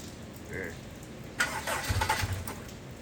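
A Honda K20A Type R engine fires for its first start after a build: quiet background, then a sudden loud burst as it catches, followed by rough, uneven revving that continues to the end.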